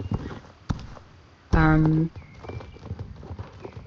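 A horse ridden in a video game clip-clops with soft, regular hoofbeats and gives a short whinny midway, all beneath a voice talking continuously.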